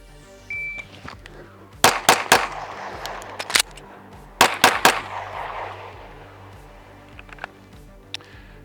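Sharp pistol shots from a Springfield Echelon during a shooting drill started from slide lock, a quick pair, then after a pause a second cluster, then a few fainter shots, all near and loud against quiet range ambience.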